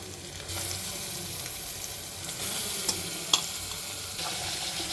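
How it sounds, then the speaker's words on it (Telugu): Chicken added to a pan of fried onions for a chicken gravy curry, with a moderate continuous sizzle of frying and occasional scraping clicks of stirring, no voices. "ఇప్పుడు ఇందులో చికెన్ వేస్తున్నాను"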